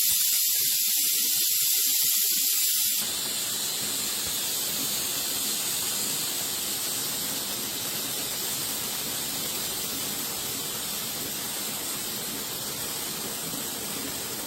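Steam from a pressure cooker of mutton stew opened without waiting for it to release, a loud, steady hiss that starts abruptly and runs continuously, slowly easing off without a break.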